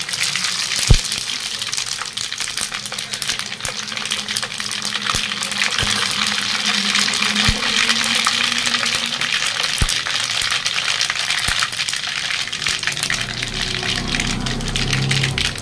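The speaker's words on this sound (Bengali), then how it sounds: "তেলে দিয়ে দিলাম একটু শুকনো লঙ্কা আর সব রকম মশলা একটু ফোড়নে দিয়ে দিলাম" Dried red chillies and mixed whole spices tempering in hot oil for a garlic achar, a loud, continuous frying hiss with scattered sharp pops and spits, close and steady throughout.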